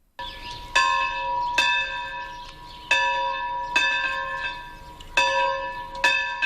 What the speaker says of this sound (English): The bell of St Paul's in the old gold rush town of Murchison tolled 17 times this morning